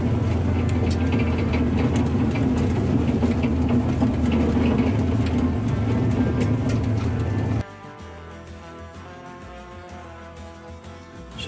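A 1959 DeSoto Firesweep Sportsman engine drones steadily while driving, then cuts abruptly to a quieter, lower hum near the end.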